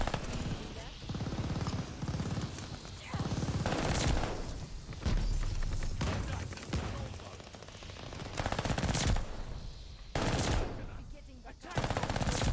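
Rapid automatic bursts from an Armaguerra 43 submachine gun in Call of Duty: Vanguard multiplayer, several loud sustained volleys separated by short pauses, with a voice talking in between.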